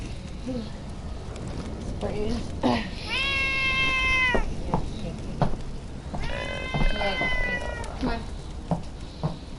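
A cat meows twice in drawn-out, tonal cries, close and fairly loud, over a noisy room with people talking.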